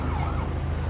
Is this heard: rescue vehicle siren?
yes